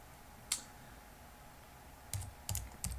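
Computer keyboard typed on in a few isolated keystrokes, quiet and close, a single tap followed by a short cluster of clicks against faint room hiss.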